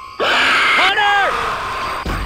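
A Hunter special infected in Left 4 Dead 2 attacks with a loud, close screeching howl, its voice rising and falling over about a second and a half, ending in a sharp thump.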